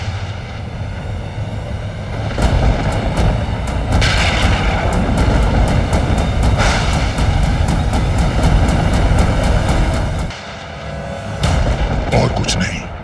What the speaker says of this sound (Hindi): ये कैसी गड़गड़ाहट है?